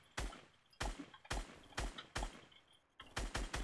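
Gunfire in the video game Fortnite, with eight sharp shots in quick succession, loud and close. The first few are evenly spaced, then a brief pause, then a faster closing burst, and nobody talks.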